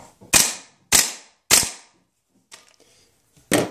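An airsoft M4 gas blowback rifle fitted with a steel hardtail buffer fires three sharp, loud cracks about half a second apart, then a pause with faint mechanical clicks and one more shot.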